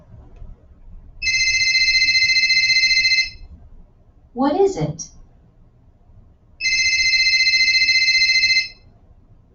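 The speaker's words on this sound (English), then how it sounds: "If you said a phone ringing, you are right." A phone rings in two long electronic trilling bursts of about two seconds each, separated by a short spoken question, loud and close with faint background noise.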